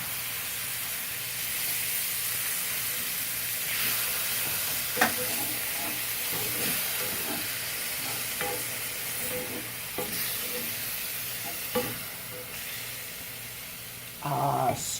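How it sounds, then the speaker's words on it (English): Marinara sauce being stirred into a hot pot of Italian sausage for a weeknight lasagna, a continuous steamy hiss and sizzle broken by soft spoon scrapes and taps, with a louder clatter near the end. "Now I add the marinara. Stir the marinara in."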